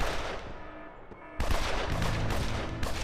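Gunfire in the Evil Genius video game: a dense, rapid fusillade of shots that begins abruptly partway through and continues loud and continuous, following a brief quieter stretch of ambient game noise.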